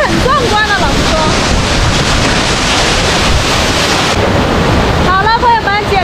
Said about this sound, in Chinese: 简单带大家看一下这个开热瀑布